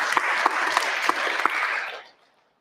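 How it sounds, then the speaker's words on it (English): Brief round of clapping from a small crowd at a Zen Buddhist temple, steady for a couple of seconds before quickly dying away to silence. "She gets some applause even though she's not here today."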